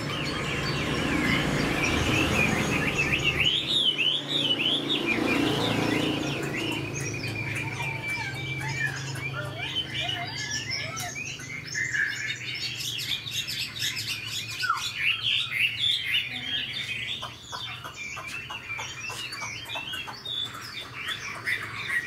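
A Chinese hwamei songbird, a large-bodied caged bird with a broad fig-leaf tail, sings varied loud warbling phrases and rapid chirps close by, with pauses between bursts and faint insect-like background noise.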